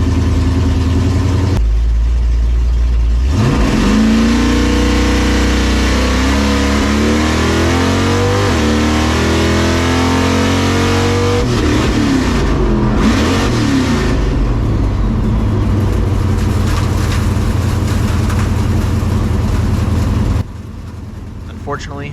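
Drag racing cars launching down a track in Nevada, a loud sustained engine roar climbing through gears and holding high for most of the run, then cutting off abruptly near the end.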